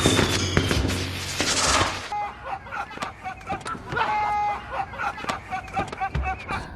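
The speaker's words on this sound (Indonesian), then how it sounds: "Namun, ternyata itu hanyalah sebuah petasan." A firecracker explodes on a car window, a loud, sharp, roaring blast lasting about two seconds, followed by quieter scattered knocks and background clatter with some voices.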